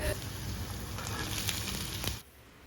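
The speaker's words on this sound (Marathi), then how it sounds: "आता आधी बटाटा आणि त्यानंतर काजू छान तेलावर परतून घ्यायचे" Potatoes and cashews sautéing in hot oil give a steady crackling sizzle with light scraping. The frying cuts off abruptly near the end, leaving quiet background.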